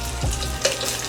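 Salmon basting in hot garlic butter in a slippery pan gives a steady close sizzle, with a brief clink and stir sound partway through.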